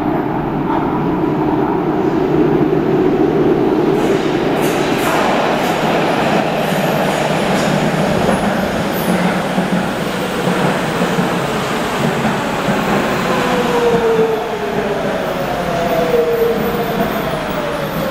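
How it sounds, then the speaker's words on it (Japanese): A Nagoya Municipal Subway 2000 series train on the Meijo Line pulls into an underground station with a loud, steady rumble of wheels and motors, faint squealing rising partway through, no talk over it. "番ホーム荒川橋方面名城線右回りが参ります。"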